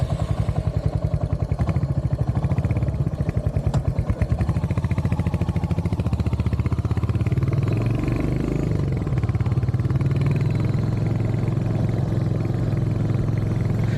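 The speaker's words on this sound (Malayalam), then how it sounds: "അങ്ങനെ 2025 മോഡൽ ഹണ്ടറിനെ നമ്മൾ ഓടിച്ചുകൊണ്ടിരിക്കുകയാണ് കേട്ടോ" A 2025 Royal Enfield Hunter 350 motorcycle ridden on a gravel bund road, its engine thumping steadily and loudly with rattly, clattering undertones the whole way through.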